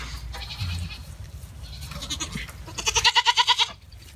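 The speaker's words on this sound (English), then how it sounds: "Goofy goat." Goat bleating inside a farm pen, a mother with kids nearby: a run of several quick, wavering bleats rises clearly toward the end, close and fairly loud, with no talk over them.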